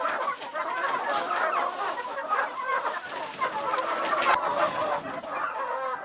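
Young hens, some about a year old and some younger, cluck steadily in a busy flock, a dense overlapping chatter of close calls with no pauses.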